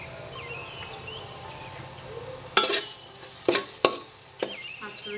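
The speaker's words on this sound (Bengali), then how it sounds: "পাঁচফোড়ন দিয়ে আমি আর একটু নেড়ে নেব।" Panch phoron spices sizzling in hot oil for a quince-like chalta pickle, with a soft steady fry and several sharp scraping stirs of a spoon against the pan, close and clear, birds faintly chirping in the background.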